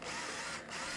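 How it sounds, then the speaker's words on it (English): An old, slow electric screwdriver drives a screw into timber for a DIY floating bed frame, giving a steady, continuous whirring motor drone close by that dips briefly partway through. "My old screwdriver's a bit slow."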